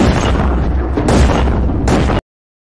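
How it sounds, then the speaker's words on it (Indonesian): Charlie fires a gun repeatedly at close range in a violent Halloween attack, producing loud, booming shots that run together in heavy bursts before cutting off abruptly. "Charlie menembaknya berkali-kali hingga peluru habis."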